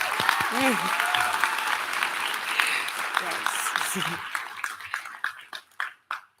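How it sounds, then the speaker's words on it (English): Applause for parents and guardians at a high school graduation ceremony, a full crowd clapping loudly at first, then thinning to scattered claps that fade out by the end. "So you can give them a round of applause."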